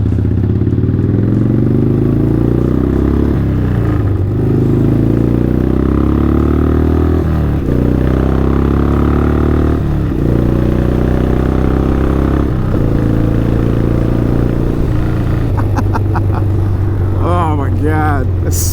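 A Sucker Punch Sallys bobber motorcycle engine runs loud and close, its tone rising and dropping through several gear shifts, with a voice talking over it.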